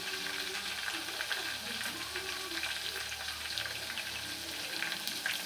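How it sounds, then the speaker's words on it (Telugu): Okra (bendakaya) deep frying in hot oil, a dense, steady, close sizzle and bubbling that carries on evenly throughout without pause. "డీప్ ఫ్రై అవుతుంది, కొంచెం వెయిట్ చేద్దాం."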